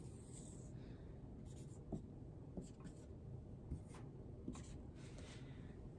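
Pen or marker writing as a math check is drawn out in a kindergarten lesson: soft continuous scratching strokes with a few light taps, steady and close, with no talking.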